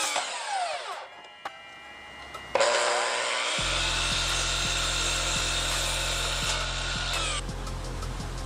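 A saw cuts shiplap trim along a marked straight line for a closet barn door build, giving a steady, loud, continuous whine that runs for several seconds with a low motor hum beneath.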